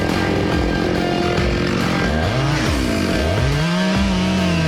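A chainsaw cuts through walnut wood, running loud and close with a steady snarl. The engine pitch dips and rises as the blade bites into the log.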